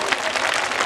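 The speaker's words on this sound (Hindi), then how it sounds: "और जोर से हाथ उठा के ताली बजाइए।" A church congregation at a Hindi-language worship service claps loudly for Jesus, with dense, steady applause filling the whole brief moment.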